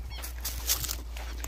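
A strong-tempered, insistent, dominant dog whimpering in short soft whines over a steady low hum, nearby and fairly faint.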